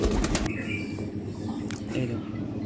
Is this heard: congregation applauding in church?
no